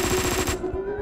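Gunfire in the video game Hotline Miami 2, a short loud burst of rapid shots over a game-music tone, cutting off abruptly after about half a second.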